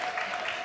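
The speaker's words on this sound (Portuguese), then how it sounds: "aplauso para você mesmo" Audience clapping on a television talk program, a brief, steady patter of applause at moderate loudness with no voices over it.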